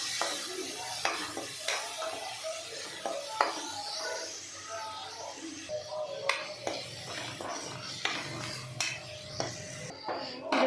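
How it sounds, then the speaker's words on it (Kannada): Beans fry in a pan with a little salt, a soft steady sizzle broken by repeated scraping taps of a spoon stirring against the pan, heard close and fairly quiet. "ಸಾಲ್ಟ್ ಸ್ವಲ್ಪ ಹಾಕ್ಕೊಂಡು ಚೆನ್ನಾಗಿ ಫ್ರೈ ಮಾಡ್ಕೊಬೇಕು."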